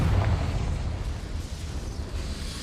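The Confringo fire spell cast in the video game Hogwarts Legacy gives an explosion: a quick burst and boom that settles into a rumbling, crackling tail, with no talk.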